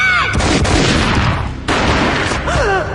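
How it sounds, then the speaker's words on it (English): Max Payne gunfire erupts in loud, close blasts, one booming shot followed by a burst of rattling fire and another shot, with a brief whooshing swell between them. "A gunshot boomed and she fell down in slow motion."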